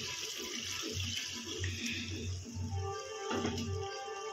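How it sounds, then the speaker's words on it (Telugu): Water poured from a glass into a simmering chicken curry pot in a home kitchen, a steady close splashing and gurgling pour lasting a few seconds with a brief louder surge near the end. "దీంట్లోకి ఒక గ్లాస్ నీళ్ళు పోసుకుంటున్నానండి."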